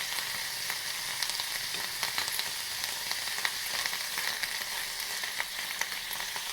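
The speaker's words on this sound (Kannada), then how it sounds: "ದೊಡ್ಡ ಪತ್ರೆ ಸೊಪ್ಪು ಚೆನ್ನಾಗಿ ತೊಳೆದು, ಮಣ್ಣಿರುತ್ತೆ, ತೊಳೆದು ಈ ಥರ ಎಣ್ಣೆ ಸ್ವಲ್ಪ ಹಾಕ್ಕೊಂಡು ಚೆನ್ನಾಗಿ ಹುರ್ಕೋಬೇಕು" Indian borage (doddapatre) leaves frying in a little oil in a pan, with a steady, close crackling sizzle and scattered sharp pops throughout, no voices.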